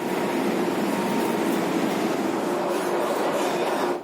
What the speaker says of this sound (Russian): А вот уже подъехал мой поезд.